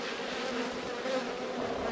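Honey bees in an opened hive during an early-season inspection, a dense, even buzzing hum from many insects close by, continuous and moderately quiet with no voices.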